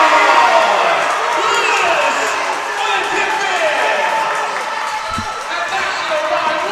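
Crowd noise from basketball fans at a high school championship game between Legacy Charter and National Christian Academy, a steady dense roar of voices through the whole stretch, with an announcer talking over it.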